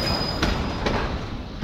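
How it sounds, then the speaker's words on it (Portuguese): A long freight train rolls past close by, a steady loud rumble of wagons with a couple of sharp wheel clacks and faint squeal over the continuous roar, no talking. "Olha o final do trem, olha quanto vagão que tem."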